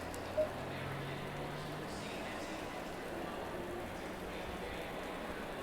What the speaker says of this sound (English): And the rain coming down.